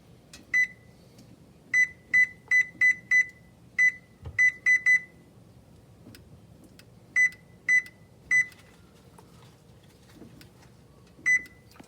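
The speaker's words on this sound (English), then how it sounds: "I'm gonna go ahead and preheat the oven to get that roast" A kitchen oven being set to preheat for a roast, its control panel giving a series of short electronic beeps in quick runs, then a few more spaced beeps over a low background hum.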